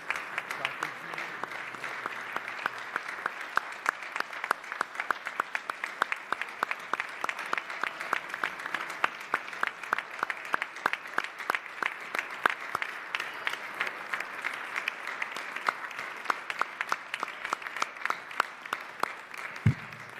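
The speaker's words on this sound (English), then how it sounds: "I want to give a big round of applause and thank Michael Benjamin for his service" A room at a New York City Council meeting bursts into sustained applause, dense steady clapping from many hands that continues at an even level throughout, with faint voices underneath.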